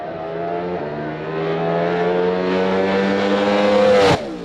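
A drag racing Oldsmobile engine revs hard toward 10,000 RPM through a 5-speed gearbox, a loud, sustained rising whine with a brief gear-change dip early on, then an abrupt cutoff near the end.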